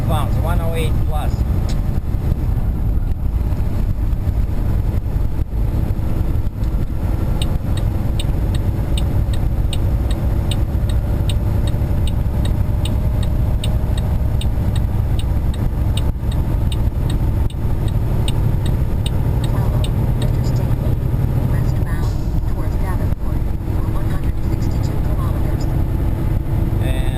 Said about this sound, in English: Accelerate when upshifting to at least 1500 RPM, otherwise the truck is not going to pull in the next gear.